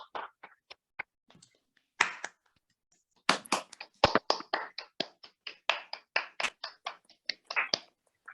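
Audience applause at a clinical discussion session, rendered as scattered individual claps that build into a steady run of close, sharp hand claps lasting several seconds.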